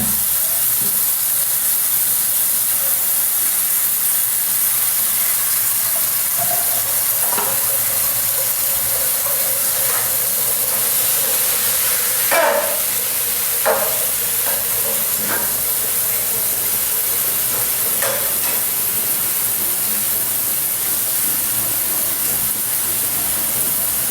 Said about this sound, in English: I'm just cooking some food, love.